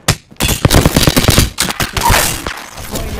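Gunfire in the Apex Legends battle royale game, with rapid bursts of shots and sharp impacts packed closely together, loud and near, continuing through most of the moment after a brief quiet start.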